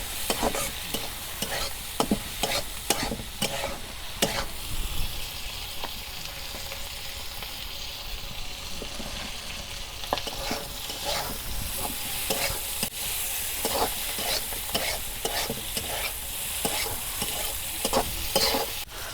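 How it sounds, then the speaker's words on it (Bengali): Dried fish frying in oil with turmeric and salt in a village-style kitchen, stirred steadily, giving a continuous close sizzle broken by frequent scraping clicks of the spoon against the pan throughout. "তেল দিয়ে ভালো করে ভাজা নিতেছি"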